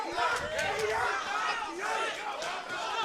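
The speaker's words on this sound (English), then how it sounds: "And you can hear this crowd getting into it behind us." A boxing crowd at a Hub City fight night cheers and roars behind a ringside commentator, with rising shouts and excited voices swelling in waves under his talk.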